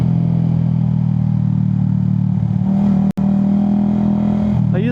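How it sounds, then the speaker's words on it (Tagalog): A motorcycle engine hums steadily up close on a solo ride along the Kaybiang tunnel, Nasugbu and Tagaytay loop, with a brief dropout and a rider talking faintly over it. "Grabe yung tunog lang ng engine ko yung naririnig dito sa lugar na to"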